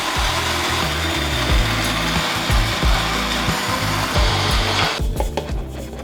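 A home grain mill grinds grain into flour up close with a loud, continuous whirring roar and uneven rhythmic grinding pulses underneath, ending in a slight change of pitch near the end.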